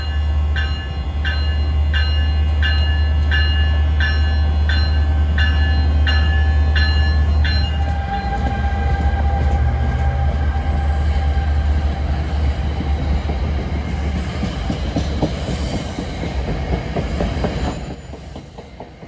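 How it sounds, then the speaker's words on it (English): An NJ Transit train leaves Hoboken toward Hackettstown on the Montclair-Boonton line, with a loud, close engine rumble, rhythmic wheel clicking over rail joints and a rising squeal of wheels as it rolls away. "And this train is going to negotiate that route."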